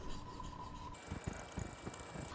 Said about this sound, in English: use the 1000 grit stone and just make a few passes over the blade with it